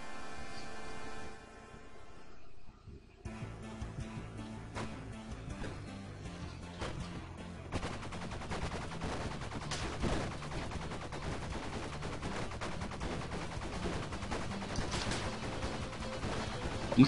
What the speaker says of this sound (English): I'm gonna try shooting him from distance for a bit